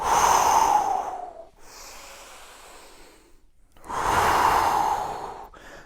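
Slow, deep breaths during a shoulder-circle workout at home: a long audible inhale-exhale, a quieter pause, then another full breath, close and alone with no talk.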